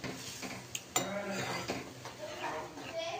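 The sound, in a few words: stirring cooked toor dal in a pot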